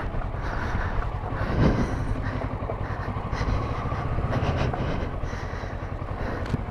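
A Kawasaki Versys 650 motorcycle ridden off-road on a rough Cornwall trail gives a loud, steady rumble of engine and tyres that swells briefly as it passes close, with no talk over it.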